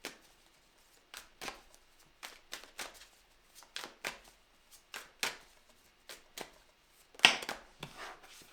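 Cards from the Sacred Creator's Oracle deck being handled and drawn, a series of soft, papery riffling brushes in short bursts spaced about a second apart, close and fairly quiet, with no talking.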